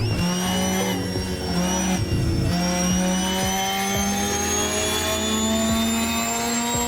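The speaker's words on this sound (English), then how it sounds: "It literally sounds like a jet engine, like, winding up, doesn't it?" The Veilside Mazda RX-7 from Tokyo Drift, in a driving video game, howls under load with a loud, steady, jet-like whine that winds up in pitch. A low engine drone runs beneath it, with no talking.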